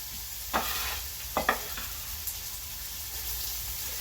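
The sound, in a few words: onion and garlic sautéing in a pan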